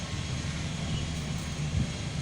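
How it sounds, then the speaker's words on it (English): A small propeller plane flying high overhead, a faint steady engine drone with a low hum, heard alone against the quiet outdoor air. "Wow, look at that plane. That's a neat little plane."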